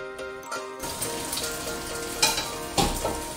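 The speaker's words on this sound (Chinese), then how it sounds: "等鸡蛋稍微凝固之后再翻面，翻面之后转中小火" Eggs sizzling in sesame oil in a pan over fairly high heat, a steady crackling fry with a couple of sharper bursts and clinks of stirring, no voices.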